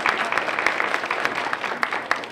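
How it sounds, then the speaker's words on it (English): Audience applause welcoming a university president, a moderate scattering of claps with distinct individual hand strikes, steady and somewhat distant. "Please, let's give our president a round of applause."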